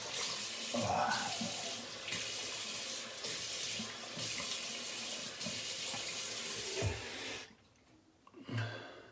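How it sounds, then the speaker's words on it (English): Tap water runs steadily with splashing as cold water rinses a face after shaving, broken by short pauses, then the flow stops and a few faint drips and a soft splash follow. "And I'm gonna rinse with cold water down here."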